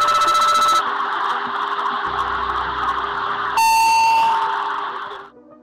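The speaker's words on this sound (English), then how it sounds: "an alarm sounds in the cockpit." A cockpit alarm aboard South African Airways Flight 295 cruising over the South China Sea as smoke starts in the cargo compartment: a sustained electronic tone with a steady low drone beneath, shifting to a brighter pitch partway through before fading out.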